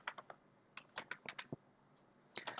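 Code being typed on a computer keyboard during a programming session: quiet, close keystrokes in quick clusters separated by short pauses, with no talking.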